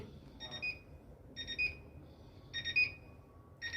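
Short electronic beeps from the control panel buttons of a Bosch iDos Series 6 washing machine, four separate two-tone bleeps spaced about a second apart, clear and close over a quiet room.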